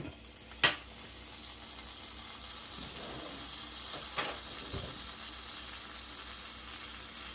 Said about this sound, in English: I'm going to take a tablespoon of butter and put that in the skillet